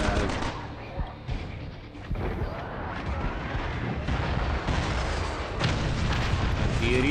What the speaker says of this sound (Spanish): Artillería pesada para dos hombres.